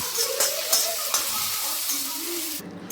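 Brinjal pieces sizzle in a pan with salt and turmeric, giving a close, hissing fry. A spoon scrapes through in several distinct stirs, and the sizzle cuts off sharply at the end. No one speaks.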